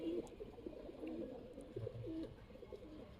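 Giribaz pigeons coo in a low, soft series of repeated throaty calls, fairly close, over a faint steady background hum, with no talking.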